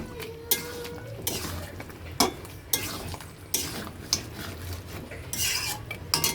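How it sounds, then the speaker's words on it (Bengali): Spiced chicken being stirred and sautéed in a pot, with repeated scraping and clinking of a spoon against metal over a low, steady sizzle, close and moderately loud. "ঢেকে ঢেকে কষিয়ে নেব।"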